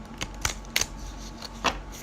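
A small, tiny-carded tarot deck is shuffled by hand, giving a few sharp, papery riffles and snaps spaced irregularly, close and fairly quiet with no talking.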